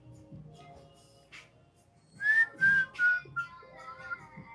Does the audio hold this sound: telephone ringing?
no